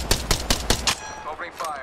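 Video game gunfire cracks in five quick evenly spaced shots within the first second, loud and close, followed by fading electronic tones.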